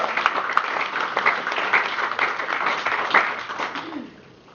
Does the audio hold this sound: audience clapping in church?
yes